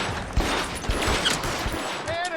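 Rapid gunfire in the detective game L.A. Noire, a dense burst of repeated shots over continuous game noise, loud and sustained.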